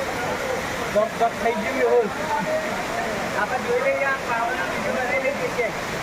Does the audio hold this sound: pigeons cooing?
no